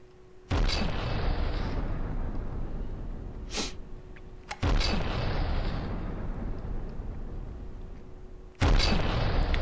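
Big guns in the video game From The Depths fire three heavy booming shots spaced roughly four seconds apart, each with a sharp onset and a long rumbling decay, alongside a faint steady hum and a small pop between them.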